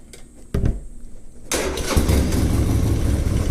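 A Harley-Davidson Sportster 1200 Custom motorcycle engine cranks and fires up loudly, settling into a steady rumbling idle close by, with no talking.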